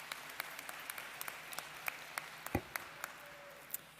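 Applause from an audience at a nursing graduation and pinning ceremony, scattered, fairly faint clapping with sharp individual claps standing out, heard from a distance across a large room.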